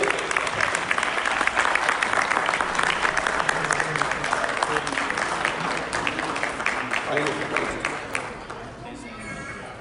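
Dense, loud audience applause in a hall during a Chhattisgarhi cultural gathering for a noted Hindi humour poet, sustained clapping that thins and fades over the last couple of seconds, with crowd voices mixed in.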